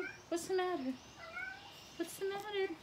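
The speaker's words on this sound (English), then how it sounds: "So that's my cat. Can you hear my cat?" A pet cat wanting to come inside meows twice outdoors, each a short clear call about a second and a half apart, while a person softly speaks over and between the meows.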